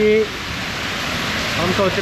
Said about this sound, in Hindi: तो बारिश फ़िलहाल बहुत तेज़ हो रही है यहाँ पे, बहुत ही तेज़ हो रही है।